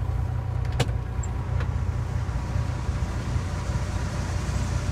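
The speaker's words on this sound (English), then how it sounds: "Waiting in line with all these other trucks." Trucks idling in a line of other trucks waiting for the scale, a low, steady engine rumble close by with a couple of brief clicks early on.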